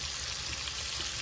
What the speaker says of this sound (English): We're going to fry this sausage up and get little crispy edges on it.